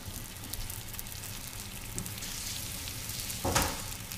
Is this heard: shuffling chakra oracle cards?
no